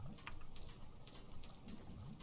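Water pouring and trickling in as a ship floods in the video game We Need to Go Deeper, a steady close liquid rush with splashy bursts running throughout.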